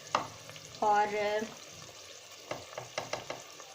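Masala and spices fry in a pan over low heat for a pumpkin and chana dal dish, a soft crackling sizzle with clinks and scraping stirs, close, while a voice speaks briefly.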